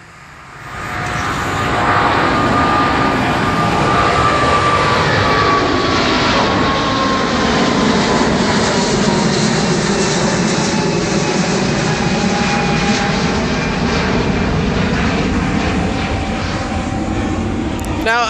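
A large airliner on approach near a Chicago airport roars in close and loud, a steady broadband jet rumble with rising whine that swells within the first seconds and holds strong throughout, with a voice faintly underneath.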